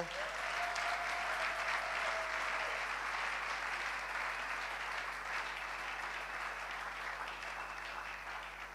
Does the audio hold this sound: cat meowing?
no